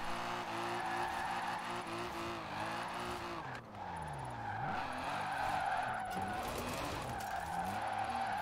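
A non-turbo inline-six-swapped Nissan S13 Silvia drifts in Forza Horizon 4, its engine droning and rising and falling in pitch under a long, continuous tire squeal, loud and steady with no voices.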